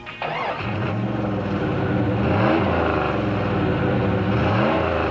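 Big 5.9-litre V8 in a Jeep Grand Cherokee fires up with a key turn, catching after a brief crank and settling into a loud, steady, deep idle with a rumbling rhythm close by.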